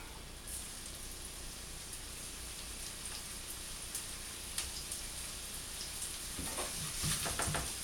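Salad greens frying in a hot pan produce a soft, steady crackling sizzle, fairly faint, with a few sharper spits and stirring toward the end.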